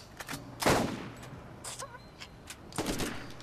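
Gunfire in Borderlands, a few scattered sharp bursts of shots at moderate distance with quiet gaps between, some faint background game sounds.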